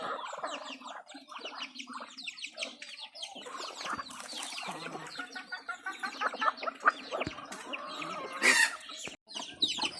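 Frizzle chickens clucking and chirping close by on a farm, a busy overlapping chorus of short calls with occasional louder squawks.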